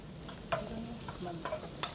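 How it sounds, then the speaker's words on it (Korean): Ingredients with garlic stir-fry in a pan, a soft steady sizzle with several quick scraping strokes of a spatula close by. "자, 마늘도 좀 넣고. 자, 볶아주세요."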